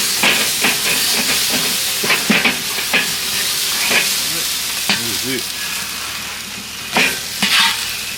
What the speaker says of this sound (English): just add a little ice water to it? Yeah, create that steam.